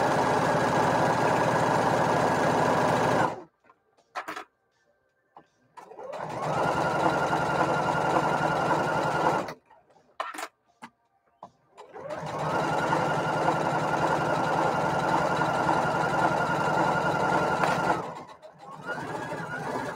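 A Burnett B79 sewing machine runs in steady bursts, stopping twice for a few seconds before starting up again, loud and close.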